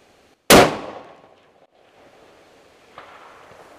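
A single sharp rifle shot cracks out loud and near during long-range shooting, its report ringing off and decaying over about a second, with a fainter knock following later.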